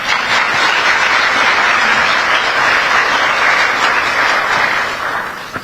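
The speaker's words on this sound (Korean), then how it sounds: "감사의 박수 한번 보내드리시죠" Loud, steady applause from a large crowd at a Korean public event, many hands clapping in a continuous dense roar that holds evenly for several seconds before easing slightly at the end.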